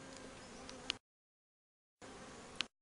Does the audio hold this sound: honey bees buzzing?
yes